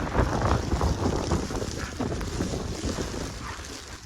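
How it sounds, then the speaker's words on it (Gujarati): Strong wind with rain buffets the microphone in heavy gusts at Matheran hill station, with a rushing hiss underneath; no talking. "પવન પણ જોરદાર ચાલી રહ્યો છે અને વરસાદ પણ ચાલી રહ્યો છે."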